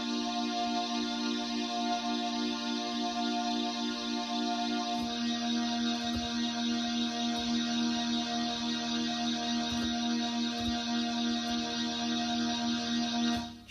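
Sustained cello voice from a vintage Crumar Multiman S string synthesizer, a steady, rich held tone with layered harmonics, a chord change around five seconds and continuous even loudness, no talking.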